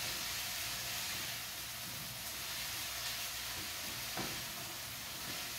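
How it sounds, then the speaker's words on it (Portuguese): Seasonings for a chicken pie filling sauté in a hot pan, giving a steady, close, even sizzle and hiss that holds for the whole stretch with no talking. "Na hora que estiver refogando todos os temperos aqui"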